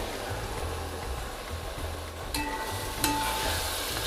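Fried vegetables being stirred into roasted biryani masala in a pan, a steady low sizzle with soft scraping stir strokes, plus two brief metallic clinks near the end; no talking.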